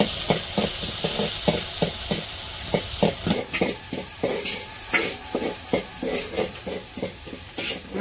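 Onion and garlic frying in oil with cumin seeds in a village kitchen, with a soft sizzle and rhythmic scraping strokes of a spoon stirring the pan at a quick, regular pace.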